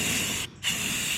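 Two bursts of aerosol spray paint hiss close up, laying a purple base coat onto a lawn mower, separated by a brief pause.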